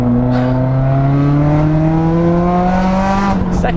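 Tuned Subaru WRX with a big turbo upgrade accelerating hard, its engine note climbing steadily in pitch through a gear, loud and close from inside the car.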